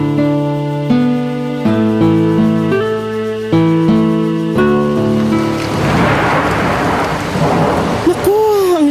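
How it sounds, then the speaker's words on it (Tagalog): Sustained musical tones fade into heavy rain pouring outside a window, a dense rushing wash with a low rumble of thunder. "ang lakas ng ulan sa labas ng bintana"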